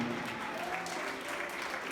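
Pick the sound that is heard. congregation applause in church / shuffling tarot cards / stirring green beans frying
congregation applause in church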